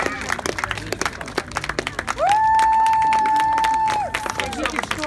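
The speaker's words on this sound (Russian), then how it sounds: "Ну а теперь молодые, под бурные аплодисменты." Wedding guests clap loudly for the newlywed couple, a dense burst of close hand claps running throughout, while a sustained whistle-like tone rises over the middle of the applause.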